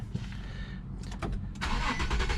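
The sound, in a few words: 2015 Infiniti QX70 engine starting with push-button start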